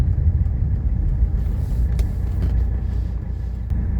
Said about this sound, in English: I'm going to pull over and let this car pass by me